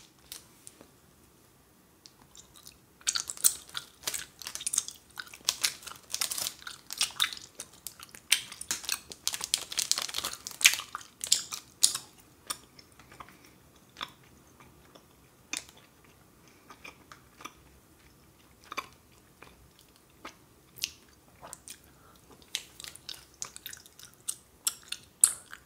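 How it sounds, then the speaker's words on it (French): Close, sticky chewing of firm gelatinous Haribo gummy candy, with irregular squelching and crunchy bites, denser at first and then sparser, with no talking. "quand on l'a dans la bouche, c'est quand même assez dur à mâcher"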